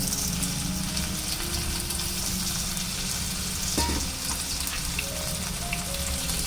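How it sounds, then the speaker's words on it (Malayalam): Onions sautéing in a pan for a chicken stew, a steady close sizzle and crackle running throughout with a brief clink of a utensil partway, no one talking. "ഇപ്പം നമ്മുടെ ഉള്ളിയൊക്കെ നല്ലപോലെ വഴന്നു വന്നിട്ടുണ്ട്."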